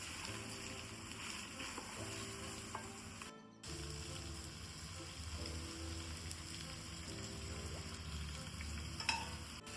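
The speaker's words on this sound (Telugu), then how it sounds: "వెజిటబుల్స్ ఒకదాని తర్వాత ఒకటి వేసి వేపుకోవాలి" Mixed vegetables and green peas frying in a pan for veg dum biryani, added one after another, giving a steady close sizzle with stirring scrapes throughout and one brief drop-out partway through.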